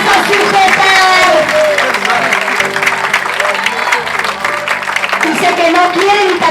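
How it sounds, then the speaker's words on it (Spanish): Loud congregation applause at an evangelical couples' meeting in Buenos Aires, with clapping blended under a preacher's amplified voice and music tones, continuous and close throughout. "dale un aplauso más fuerte, sea para Cristo"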